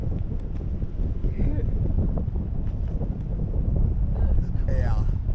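Wind rushing past while drifting under a parachute in flight, a steady moderate buffeting roar with faint voices and light rustles mixed in.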